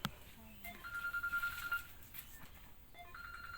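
A mobile phone rings faintly with short electronic tones and a sustained beeping melody, while someone talks nearby in a plant garden.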